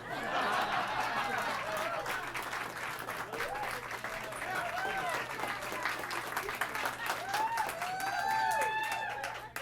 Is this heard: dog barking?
no